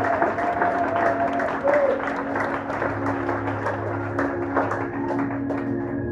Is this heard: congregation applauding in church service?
yes